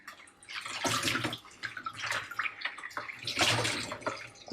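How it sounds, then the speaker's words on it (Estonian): Coloured rinse water poured out and fresh water run in for yarn dyed with birch leaves, splashing and gurgling in uneven loud surges, close and continuous with no voices. "Kui vesi on muutunud väga värviliseks, tuleb see ära valada ja uus loputusvesi asemele panna."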